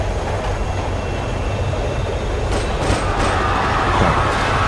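A subway train runs with a steady, loud rumble and rolling wheel noise filling the whole stretch, with no voices over it.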